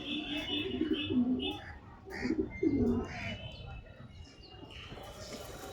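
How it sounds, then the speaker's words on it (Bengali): Golden shira pigeons cooing in a loft: several soft, rolling coos close by, with faint chirps and light rustling in the background. "এটা গোল্ডেন শিরা ঘরের পায়রা"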